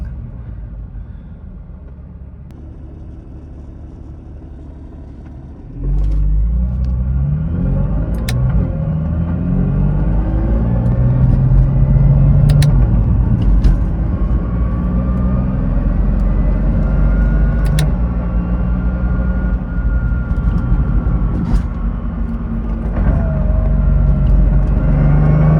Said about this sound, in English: Everything's rattling, dude.